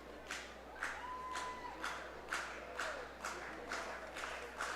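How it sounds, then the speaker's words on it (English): A baseball crowd at an Intercounty Baseball League game between the Guelph Royals and London Majors claps in a steady, evenly spaced rhythm, about eight beats, sounding distant and fairly faint over low stadium hum. "Crowd cheers him on."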